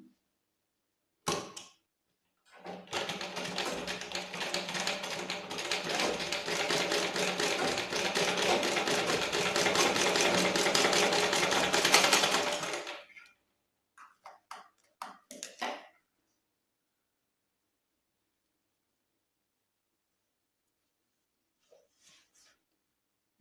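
A sewing machine stitches a homemade fabric face mask, a brief start followed by a steady rapid mechanical whir for about ten seconds, then a few short bursts and quiet.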